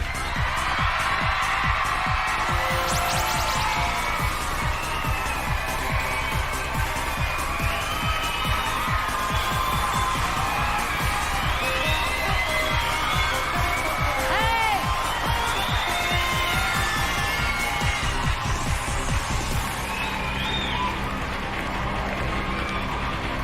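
Live studio crowd at a Big Brother Australia eviction night at Dreamworld on the Gold Coast, cheering, whooping and clapping loudly and continuously throughout, with a voice faintly mixed in.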